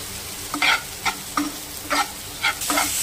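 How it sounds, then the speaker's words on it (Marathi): Onion, green chili and tomato frying in leftover oil, stirred with a spatula in a pan; six or seven distinct scraping stir strokes, roughly one every half second, over a steady close sizzle, with no talking. "यामध्ये आता तेलात परत शिल्लक तेल टाकलंय. कांदो मिरची टोमॅटो"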